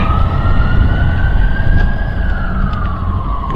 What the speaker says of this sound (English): Let's see if these sirens get picked up.